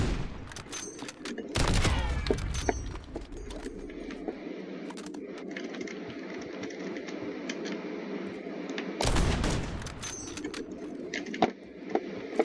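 Gunshots in a first-person shooter video game, sniper fire, two loud broadband blasts about seven seconds apart over a steady game ambience with faint chirping and clicks.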